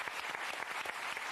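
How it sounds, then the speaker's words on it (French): On a French television variety show, a studio audience breaks into applause, a brief burst of dense, even clapping heard at moderate level. "Je vous demande de les applaudir."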